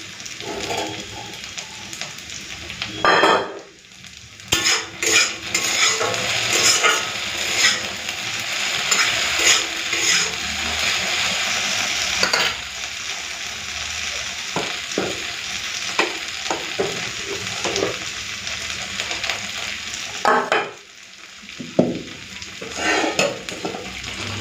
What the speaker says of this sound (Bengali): ঢেঁড়সটা হালকা ভাজা ভাজা হয়ে গেছে